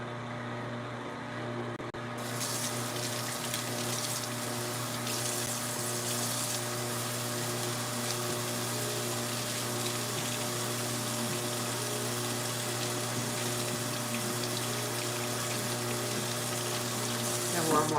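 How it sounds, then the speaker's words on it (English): Warm water runs steadily from a tap for a long stretch, a constant hissing flow with a steady hum beneath it. "That warm water feels good."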